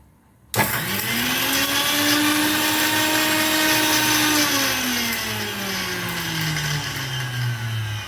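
A mixer grinder starts abruptly and runs loud and steady for several seconds, crushing coconut, salt and spices for Kerala aviyal, its motor whine dipping in pitch as the load grinds.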